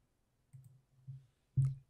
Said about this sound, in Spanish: hago clic acá y salta más alto